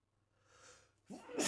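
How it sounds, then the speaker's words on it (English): A person gives one sharp, loud sneeze close to the microphone after a brief breathy inhale, with no talking around it. "Gonna sneeze again."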